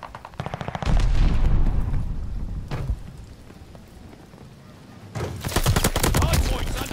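Video game gunfire around a contested hardpoint objective, loud rapid automatic bursts up close that stop and resume, with a single heavier shot midway and sustained firing again at the end.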